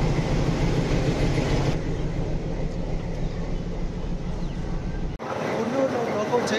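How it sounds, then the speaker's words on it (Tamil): The Ooty–Coimbatore toy train rolls along with a steady low rumble and rail clatter, close and loud; the sound cuts out abruptly for a moment near the end and then resumes with brighter clanking. "நம்மளை புல் பண்ண போற லோக்கோ"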